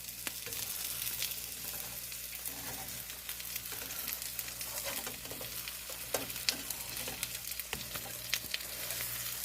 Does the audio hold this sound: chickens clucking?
no